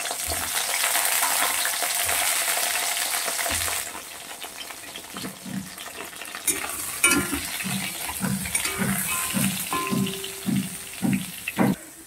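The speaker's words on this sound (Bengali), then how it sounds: "এবার বেগুনগুলোকে ভেজে নিচ্ছি।" Eggplant pieces fry in a little oil in a pan, a steady bright sizzle for the first few seconds, then quieter crackling broken by repeated scraping and clinking of a utensil stirring the pan.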